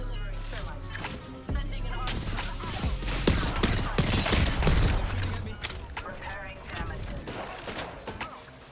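Gunfire in the battle-royale shooter Apex Legends, bursts of shots and mechanical clatter packed densely over several seconds beneath a player's voice.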